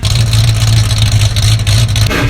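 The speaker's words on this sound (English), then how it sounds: "I tossed on an X-Pipe with no mufflers and dumps" A Ford Mustang engine with an X-pipe exhaust, no mufflers and dumps roars loud and close, holding a deep, continuous rumble with slight surges throughout.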